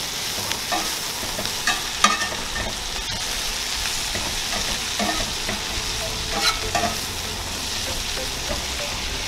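Butter is stirred into eggs in a hot pan, a continuous close sizzle with repeated scraping utensil strokes and occasional clicks against the pan, no voices.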